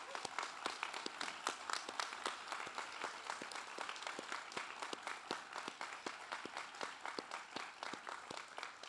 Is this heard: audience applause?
yes